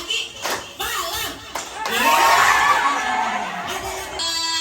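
An indoor group of older adults claps and cheers in a clapping game, with short bursts of clapping, whoops and mixed voices shouting together.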